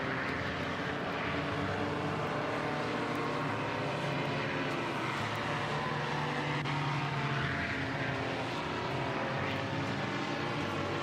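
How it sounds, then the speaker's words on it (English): A paramotor engine drones continuously throughout a slalom flight at a world championship event, its buzzing propeller tone rising and falling slightly as the craft passes at moderate distance, with no talk over it. "I'm listening to the sound of the engine"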